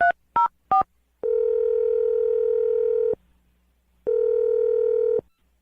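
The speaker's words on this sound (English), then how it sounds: "I'm going to dial her phone number right now." A telephone plays three short touch-tone dialing beeps, then two long, steady ringback tones separated by a pause, clear and close.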